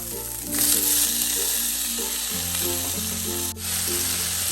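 Baguio beans stir-frying with kikiam in a hot pan make a steady, loud sizzle with a sudden surge partway through as the pan is stirred, over faint background music.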